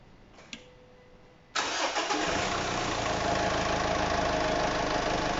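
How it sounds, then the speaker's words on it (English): A Mitsubishi L200 DI-D diesel pickup, 2005-2015 model, cranks briefly after a faint click and catches, then settles into a loud, steady diesel idle close by with no talk. "I'm just going to try and start it up now."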